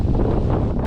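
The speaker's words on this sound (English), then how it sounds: "of course it's super windy" Strong wind buffets the microphone on open water during adaptive kiteboarding, a steady loud roar with gusty low rumble throughout, no voices.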